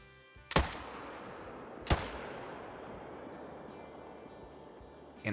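Two loud, sharp rifle shots about a second and a half apart ring out while hunting game in theHunter: Call of the Wild, each followed by a lingering outdoor decay, with a faint third report at the very end.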